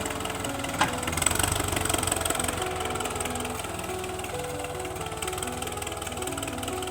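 A tractor engine drones and idles throughout with a low rhythmic chug, fairly constant in level, while planting sugarcane in a field in Chonburi, Thailand, with faint outdoor background noise.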